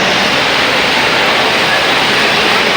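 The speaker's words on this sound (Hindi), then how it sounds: "इतनी तेज़ बारिश हो रही है।" Torrential rain pours down at a railway station in Lahore, a dense, steady, loud roar of water with no breaks, close and all-enveloping.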